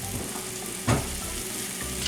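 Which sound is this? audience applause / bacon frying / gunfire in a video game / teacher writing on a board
bacon frying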